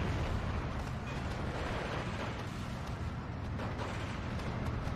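A Panzer IV tank taking a hit in the strategy game Steel Division 2, a dense, continuous battle roar of explosions and artillery rumbling loudly throughout.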